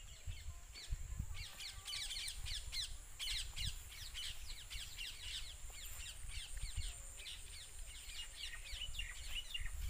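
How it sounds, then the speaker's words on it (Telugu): Parrots screech in village fields, sharp high calls repeating in quick overlapping bursts at moderate distance, fairly faint over a low outdoor rumble. "అక్కడ చిలుకలు చూడు ఎంత బాగా అరుస్తున్నాయి."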